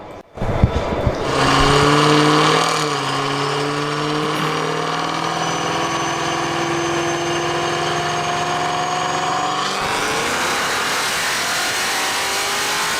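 Cadillac CT5 Blackwing with a supercharged V8 runs hard on a dyno, revving loud and sustained with whining rising and falling tones for about eight seconds before the pitch shifts as it lets off.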